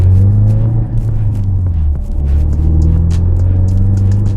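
Modified car driving along, with a deep, steady engine rumble and drone that stays loud and close throughout, dipping briefly near the middle before settling back.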